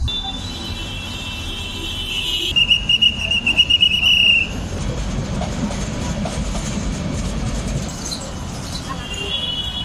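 A train rumbles past Kadamtali railway crossing in Chattogram with a steady clatter, and its horn blows in several quick, loud blasts before the heavy rolling noise carries on.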